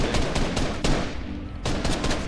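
Gunfire in Fortnite Battle Royale: several loud bursts of rapid shots in quick succession, close and dense, with a short gap before a final flurry.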